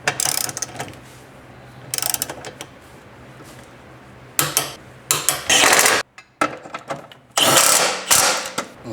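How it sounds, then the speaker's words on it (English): A ratchet clicks in quick bursts while tightening the shifter bolts on a Subaru, with short runs of rapid pawl clicks separated by pauses, close and clear. "Last two bolts to torque down and we're done"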